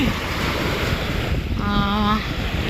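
Sea waves at Salmiya Marina beach in Kuwait wash in a continuous surging roar under cold gusting wind buffeting the microphone, with a brief tonal hum midway.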